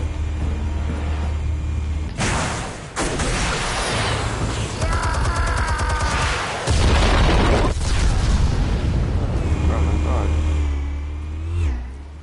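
Explosives detonating in a Telltale Batman game: several heavy booms burst out over a rumbling engine-like background, with sharp loud blasts and a longer roaring surge, and voices speak in places.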